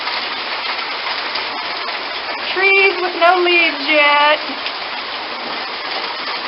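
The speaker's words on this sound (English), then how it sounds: "it's still hailing, but it's staying small" Small hail falling steadily outdoors among bare, leafless trees, a continuous broadband patter and hiss throughout, with a person speaking over it partway through.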